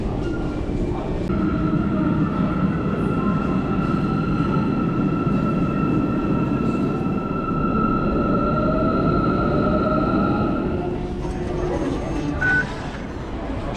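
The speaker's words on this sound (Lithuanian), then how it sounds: "O dabar dar noriu išbandyti Kairo metro." Cairo metro train riding along, a steady rumble with a sustained whining tone through most of the ride, then shifting near the end as it slows; continuous and close, with faint voices in the carriage.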